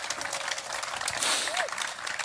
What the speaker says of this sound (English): Will you please give a big round of applause for Mr.